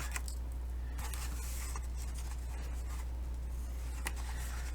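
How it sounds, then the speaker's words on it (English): Tape pulled off a paper ephemera folio: a steady dry peeling scrape with a few sharper tearing ticks, close and quiet against a low constant hum. "And then I'm going to pull that tape out."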